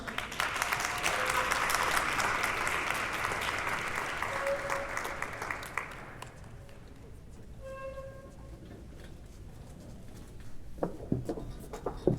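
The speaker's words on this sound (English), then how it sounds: "So put your hands together for applauding the arts within the artists." Audience applause at a theater showcase: dense, sustained clapping for about six seconds, then fading into a quieter room with scattered claps and light rustling.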